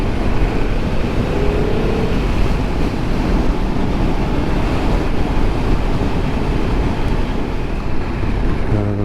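A 2022 Yamaha MT-10 motorcycle on a test ride, a constant loud rush of engine and wind noise that stays even and unbroken throughout.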